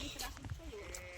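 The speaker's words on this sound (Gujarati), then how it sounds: "બકરી બોલે બે" Goats and sheep grazing on a family farm bleat briefly among people talking nearby, the calls short and somewhat muffled.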